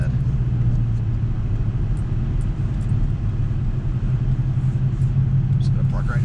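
A Ford Foxbody Mustang rolls in to park, its low engine rumble steady and close throughout, with a faint brighter noise near the end.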